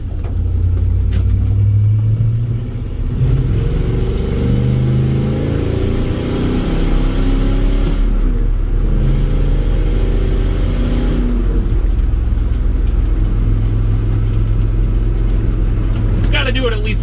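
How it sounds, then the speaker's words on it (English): A truck's gasoline engine hums and swells through steady driving, revving up and easing off in a continuous low drone, with people talking over it inside the cab. "I love the way this engine sounds"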